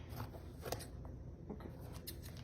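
Scissors snip through material for a book centerpiece in a few quick, crisp cuts at close range, with light rustling between them.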